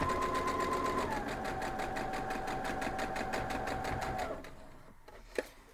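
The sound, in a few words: sewing machine stitching fabric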